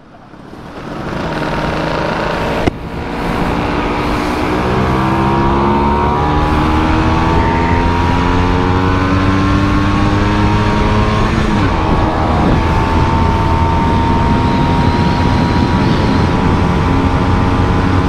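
A Vespa scooter on 12-inch wheels with a front disc brake rides fast, its engine note rising through repeated accelerations into a loud, sustained high-revving drone heard close up throughout.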